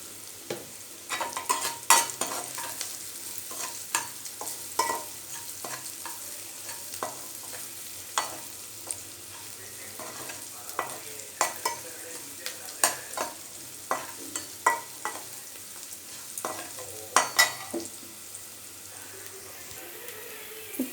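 Onions sizzle steadily in a hot pan with curry leaves and salt, while a spoon scrapes and stirs in repeated, irregular clatters over the continuous frying hiss.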